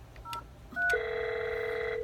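Telephone keypad tones sound on an Avaya SIP phone setup: two short dial beeps, then a steady sustained tone that holds to the end over faint line hiss.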